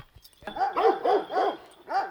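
Several dogs, including a shepherd-type sheepdog, bark in short close bursts on a roadside walk, about five loud barks in quick irregular succession with brief gaps between them.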